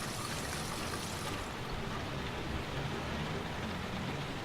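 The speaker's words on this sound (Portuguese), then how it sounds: "esse barulhinho de chuva eu adoro" Steady rainfall in the video game Heavy Rain, a dense, even hiss of falling water with no talking.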